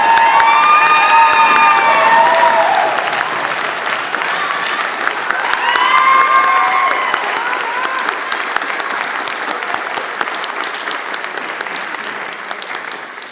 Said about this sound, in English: graduates, can you give a round of applause to faculty, family, and friends who've helped you for your journey?